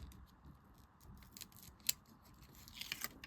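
Scissors snip at the backing of tear-and-tape adhesive during a Stampin' Up! Paper Pumpkin paper craft, a faint crisp cut standing out near the middle and a few light snips and rustles toward the end, close and quiet.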